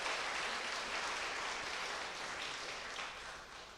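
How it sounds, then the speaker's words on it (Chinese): Applause from a church congregation during a Sunday worship service, a steady, even wash of many hands clapping at moderate distance that gradually thins toward the end. "来拍手拍手，谢谢。"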